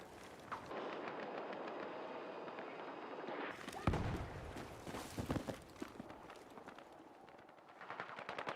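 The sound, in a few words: bot firing a rocket in a video game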